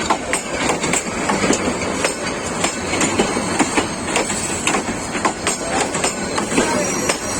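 A Bangladesh Railway Mahanagar Prodoti passenger train rushes past on the rails, its wheels clacking in a loud, rapid rhythmic beat, close by and continuous.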